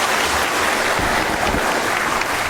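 An audience at an Assam Rifles event claps steadily together for a couple of seconds, a dense, even patter of many hands.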